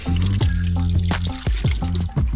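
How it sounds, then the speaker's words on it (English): Water pours steadily into a boat hull past an old, removed coupling seal, a continuous close liquid rush with sloshing and dripping splashes on top, no talk. "It's not that much water really coming in."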